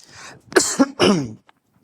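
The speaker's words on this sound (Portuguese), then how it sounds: "Eu estou com um pouquinho de pigarro, um pouquinho de tosse" A person clears their throat and coughs a few times in quick succession, close to the microphone.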